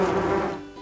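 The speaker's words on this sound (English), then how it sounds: "We can hear bees." Bees buzzing, a brief steady insect drone that fades over under a second.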